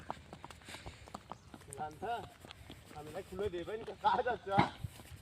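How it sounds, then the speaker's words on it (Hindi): A young mare trots fast in a special gait, her hooves clip-clopping in a quick steady rhythm, while people talk loudly over the hoofbeats. "अब जाए तेज से जा रहे घोड़ी, बहुत तेज गति की ला गई है"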